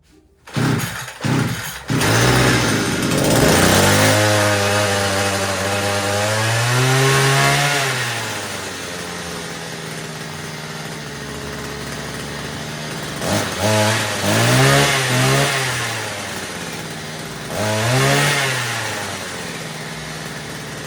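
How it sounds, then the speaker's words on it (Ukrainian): A Dnipro-M petrol string trimmer, three and a half years old and freshly repaired, fires up with a few sharp starts, then runs loud and close, its engine revving up and down in repeated swells between steadier idling. "Цей тример вже працює більше трьох років, вже три з половиною роки."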